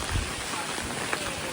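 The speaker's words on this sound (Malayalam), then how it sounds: "ഇങ്ങനെ മഴയൊക്കെ ആസ്വദിച്ച് പോകാൻ തന്നെയാണ് രസം" Heavy monsoon rain pours in Mumbai as a dense, steady hiss of drops on surfaces, loud and continuous from start to finish.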